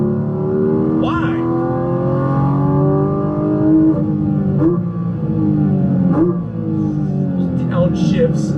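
A 2024 model-year car engine revs hard with sweeping pitch, then drops through several downshifts, each with a short blip, loud and close throughout, with a voice heard at times.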